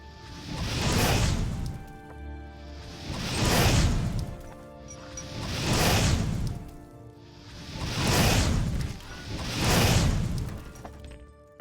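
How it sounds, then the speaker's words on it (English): Explosion spell blasts in the video game Oblivion, five loud whooshing bursts with crashing booms repeating at a steady pace about every two and a half seconds, each swelling and fading. "aren't explosion spells neat?"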